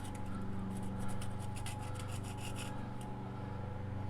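A pick tool scrapes gunk out of the corners of a rear brake caliper on a 1994 Mercedes C280, giving a faint, steady rasping scratch with quick repeated strokes up close.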